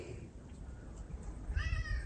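A pet kitten named Mr. Pod gives a single short meow near the end, close and fairly clear over quiet room noise in a workshop.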